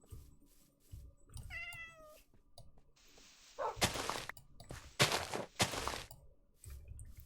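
A Minecraft cat gives a clear, rising-and-falling meow near the start, over a background of game ambience and later sharp whooshing bursts.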